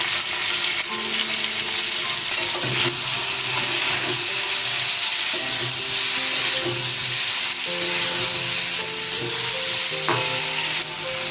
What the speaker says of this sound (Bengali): পেঁপে আর আলু যখন লাল করে ভাজা হয়ে যাবে